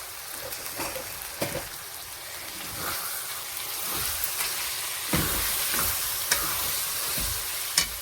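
Spice paste of turmeric, ground coriander and cumin loosened with water sizzles in a pan for a chicken curry, with steady frying hiss and repeated scraping stirs of the utensil, close and alone.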